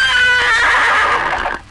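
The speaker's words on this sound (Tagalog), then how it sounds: "Nabatihan ko pang hiri-hiri sa kabayo." A horse gives a loud, close, drawn-out whinny that rises, then trails off and fades near the end, with no other sound competing.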